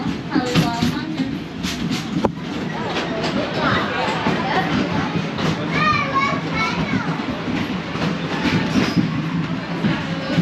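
Wildlife Express train at Disney's Animal Kingdom rolls along with steady rumble and clatter while children chatter and squeal nearby throughout.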